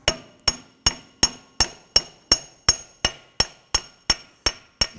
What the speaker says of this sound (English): Now I'm going to use a brass punch here, fat enough that it won't go in and damage the threads where the bolt was.